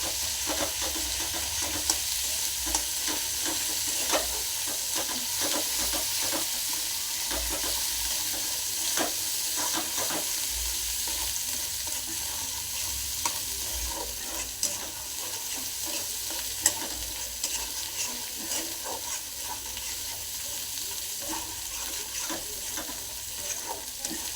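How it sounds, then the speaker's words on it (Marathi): Ginger-garlic paste frying in a pan for chicken gizzard fry, a soft continuous sizzle with scattered spoon scrapes and stirs, fairly quiet and close, no talking. "अद्रक लसूण एक चमचा घालायचा आहे हे पण चांगलं फ्राय करायचं आहे"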